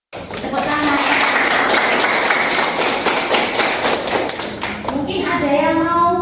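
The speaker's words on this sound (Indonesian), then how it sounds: "Tepuk tangan." Students applaud in a classroom, dense rapid clapping close by with voices mixed in, tapering off near the end as talk resumes.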